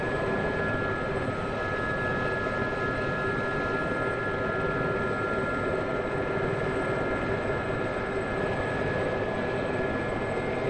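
Helicopter rotors and turbine engines in the DCS World flight simulator, with Gazelles and Hueys nearby, a steady, unbroken drone and whine holding at constant loudness without any talk.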